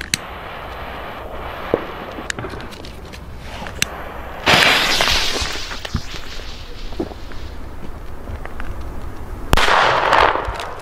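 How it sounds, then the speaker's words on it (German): WECO Bombette firecrackers from a Lidl fireworks assortment go off outdoors: two loud, sharp bangs about five seconds apart, each followed by a ringing, noisy tail over low background rumble. "Ich sagte ja, in diesen Sets sind die Böller immer ein bisschen besser."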